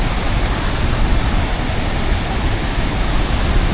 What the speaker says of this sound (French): on est juste à côté de la cascade